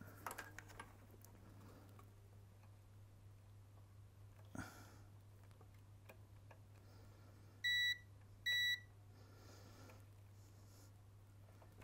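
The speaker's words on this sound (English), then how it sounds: "I'm just going to do a continuity test on the input." Two short, clear electronic beeps from a multimeter during a continuity test on the input of a Technics SE-A900s amplifier, heard over a quiet steady hum with faint handling noises.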